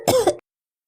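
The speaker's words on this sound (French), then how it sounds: "Je tousse." A single short, close cough from one person, dry and abrupt, heard alone and followed by silence.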